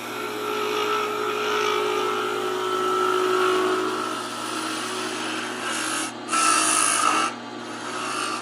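A wood lathe turns a wooden garden dibble while a tool cuts it, giving a continuous steady whirring hum with rasping cutting texture that shifts slightly as the cut changes, with no talking.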